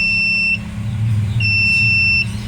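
Thin high-pitched whine from the turning gear of a fully automatic egg incubator, heard in two sustained stretches with a short gap, over a low steady motor hum.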